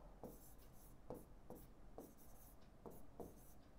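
Chalk or marker scratches across a classroom board during a maths lesson, a series of short, faint strokes spaced irregularly, each a brief rasping swipe.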